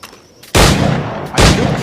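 Two heavy firearm blasts from the Assassin's Creed video game, the first just past halfway and the second near the end, each a sharp loud crack with a rumbling tail and no talk.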